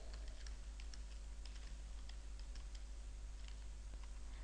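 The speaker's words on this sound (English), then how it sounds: "you can simply type in the name of the training you had attended" Soft clicking of a computer keyboard as someone types, light irregular keystrokes, faint and close over a steady low hum.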